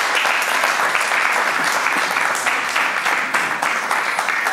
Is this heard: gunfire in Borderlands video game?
no